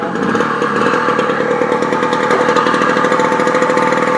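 A motorcycle engine, started with a kick and then revved, runs loudly and steadily up close with a dense, buzzing drone that holds for several seconds.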